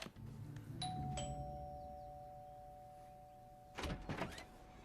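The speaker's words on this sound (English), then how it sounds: "Dean pushed the doorbell with forceful" A doorbell chimes twice in clear succession, two bright ringing tones that linger and fade, followed by a brief shuffle of movement near a door.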